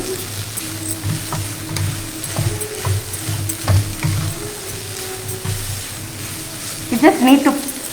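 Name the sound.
black-eyed peas sautéing in oil in a pan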